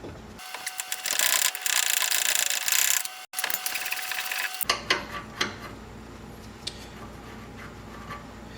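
A socket wrench works loose the upper ball joint nut on a Jeep TJ, using a 28 millimeter socket on the bottom nut. Loud rapid ratcheting and metal scraping, then a sharp break and quieter clicks and rattles, with no talking.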